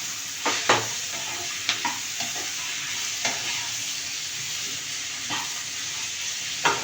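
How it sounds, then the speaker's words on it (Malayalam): Pickle with asafoetida stirred in a hot pan, a steady sizzle and hiss with repeated scraping strokes of a spoon at irregular intervals, close and fairly loud, no talking. "ഇത്രയിട്ടൊന്ന് ഇളക്കിയിട്ട് പിന്നെ നമുക്ക് ഓരോ പച്ചക്കറികൾ ഓരോന്നായിട്ടിടാം."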